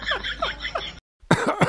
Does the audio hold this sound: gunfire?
no